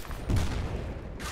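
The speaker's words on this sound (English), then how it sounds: "It's a long run with a lot of people shooting at us." A short, sharp burst of gunfire in Battlefield Bad Company 2, with loud overlapping shots in quick succession that fade into rumbling echo.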